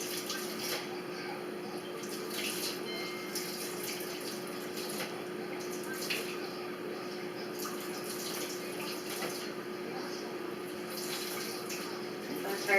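Tap water runs steadily from a faucet to make lukewarm water for homemade molasses raisin bread dough, a continuous broadband splashing hiss close by, without pause.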